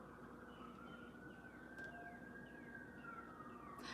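Emergency vehicle sirens wailing at a distance, a rising and falling tone held steadily over a low rumble of background noise.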